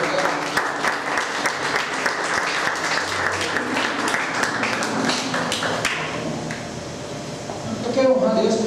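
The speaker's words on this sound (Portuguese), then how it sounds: "Você pode aplaudir a Deus pela vida." A church congregation claps during a sermon, loud sustained applause with sharp individual claps standing out, people talking and calling out over it, and the clapping thins toward the end.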